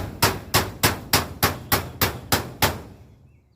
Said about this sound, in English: And we're just gonna hammer it down.